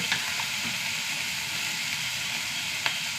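Two curry leaves hit hot oil already holding onion and chili, giving a steady, close, fairly loud sizzle with a few sharp pops scattered through it.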